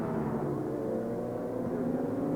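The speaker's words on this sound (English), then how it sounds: "You can hear the engine revving as he shifts back down into 2nd gear" A 1993 Yamaha superbike engine at Brands Hatch race circuit drones steadily and revs as it downshifts into second gear, heard at a moderate distance with no voices.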